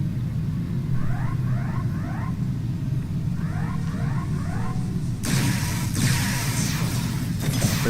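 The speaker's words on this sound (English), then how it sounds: "For some lightning and a thunder." Star Trek Online lightning and thunder effect: a low continuous rumble, then a sharp, loud crack of thunder with a rolling tail, followed by another crack near the end.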